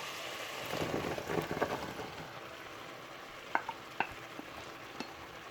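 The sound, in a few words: radish and radish stems added to pan, frying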